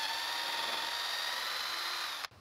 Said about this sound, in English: A pocket hole jig will create angled holes for screws to secure the pieces together.